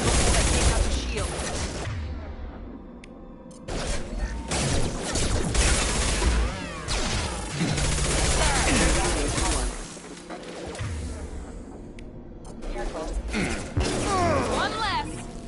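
Bursts of gunfire from firefights with enemies in Mass Effect 2 Legendary Edition, loud and dense with crashes and mechanical clatter, broken by short lulls, as game voices speak over the action.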